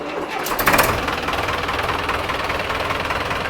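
A loud, steady tractor engine idles with a rhythmic knocking chug, close by and continuous throughout, with a brief louder surge near the start.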